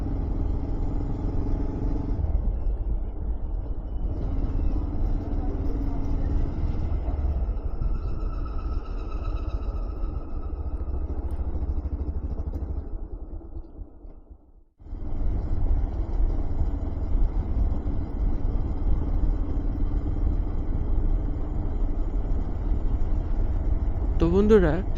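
A motorbike engine drones steadily on a winter morning ride through a Bangladeshi village. The low, continuous rumble briefly dips near the middle before resuming, with faint wind and road noise throughout.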